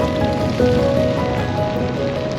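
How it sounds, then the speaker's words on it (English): Steady rain falling continuously outdoors, a dense broadband patter at even loudness throughout, with no voices. "Rain falling. Shall we go?"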